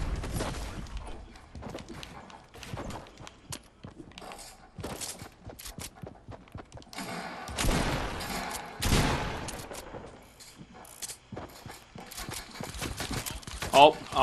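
Gunfire from the Fortnite video game, with bursts of shots scattered through a busy stretch of game sound while a player talks over it.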